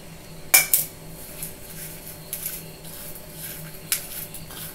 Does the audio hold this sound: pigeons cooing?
no